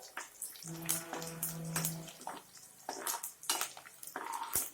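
Garlic fries in a pan while a spoon stirs it, with sizzling and scraping against the metal and a few clinks in the foreground.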